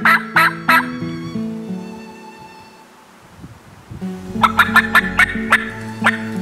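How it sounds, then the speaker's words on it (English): A wild turkey gobbles loudly in the open woods during a hunt, a burst of rattling gobbles, then a quiet gap, then another rapid gobbling series close by. "I heard a gobble within 150 yards"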